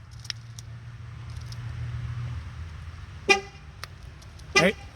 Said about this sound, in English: It honked when it was set, and then it honked 2 more times after that.